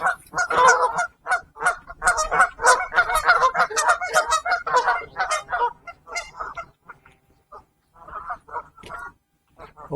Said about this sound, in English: the geese usually get a bit aggressive this time of year because they've got eggs or chicks